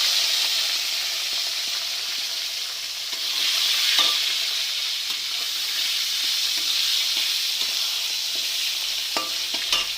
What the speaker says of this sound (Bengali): এবার এর মধ্যে আমি হিংটা দিয়েই টমেটোগুলো দিয়ে দেবো।